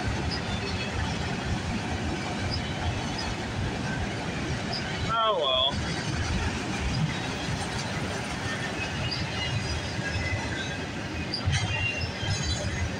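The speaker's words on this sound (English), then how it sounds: "there's the end of that train" A long CN autorack freight train rolls past at night, a steady loud rumble of railcars with a brief wheel squeal midway, while a voice speaks briefly over it.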